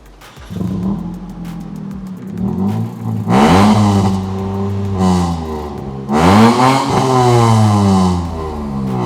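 A Suzuki Karimun Wagon R engine revs hard several times through a loud, throaty modified exhaust, rising and falling in surges with a rough rumble between bursts.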